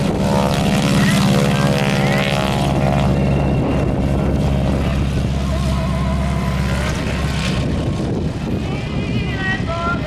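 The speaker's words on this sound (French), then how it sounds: "Le Newport, eh bien, c'est un avion de chasse qui était là pour aller abattre les avions." A World War I Nieuport fighter plane drones loudly and steadily overhead at an air show, its propeller engine hum filling the whole stretch.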